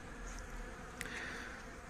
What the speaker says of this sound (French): on voit donc les abeilles elles sont là, elles sortent encore